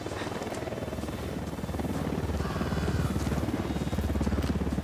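Helicopter in the video game Ghost Recon Wildlands, a loud continuous rotor thump with a rapid pulsing beat and engine whine, swelling slightly as it goes, no speech over it.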